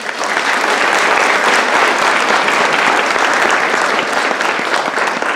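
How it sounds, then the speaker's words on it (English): Audience at a university English department graduation convocation clapping steadily, a dense, loud, even wash of applause from a large crowd with no voices over it. "Let's clap for them."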